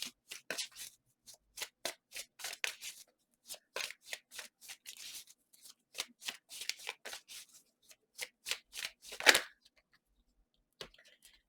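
Tarot cards being shuffled and drawn, a quick series of soft riffling flicks and snaps in uneven bursts, close and quiet, with a pause and a few final taps near the end.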